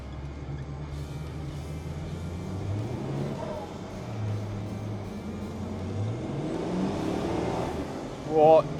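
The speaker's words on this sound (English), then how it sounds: "definitely spins up them rear wheels" Engine of a tuned Nissan Patrol M57 revs steadily while its rear wheels spin up on a wet British road, droning from inside the cabin, with a short louder surge near the end.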